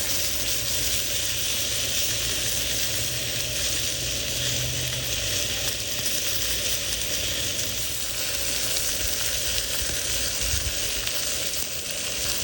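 Pompano fish frying crispy on a griddle, a loud, steady sizzle that runs without a break from start to finish.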